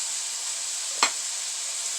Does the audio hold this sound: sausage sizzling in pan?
yes